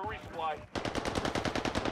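Automatic gunfire in Call of Duty Warzone, a rapid burst of sharp evenly spaced shots filling the second half after a short stretch of voice, moderately quiet overall.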